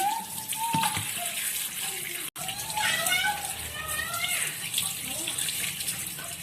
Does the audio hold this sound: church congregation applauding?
no